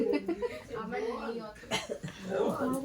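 An older woman coughs in short bursts on a winter night, mixed with people talking and chuckling close by.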